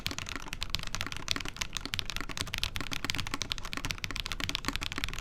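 Rapid, even keystrokes clatter on a Tofu 2.0 top-mount mechanical keyboard with all its mounting points in use, a close, continuous stream of crisp clicks and thocks with no talking.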